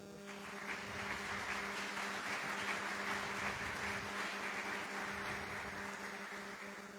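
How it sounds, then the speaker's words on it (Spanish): An audience at a Catholic catechesis session applauds steadily throughout, a dense wash of clapping that stays at an even level from start to finish. "Le damos un aplauso."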